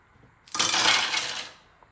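A playing card from the Mind Space board game flipped over on a table: one short, crisp swish and slap lasting about a second, close and clear in a quiet room.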